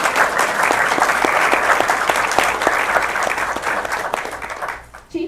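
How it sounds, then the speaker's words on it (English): Audience applause at a Democratic community gathering, loud and dense clapping from many hands that holds steady for several seconds before thinning out and dropping away at the end. "Y'all can clap."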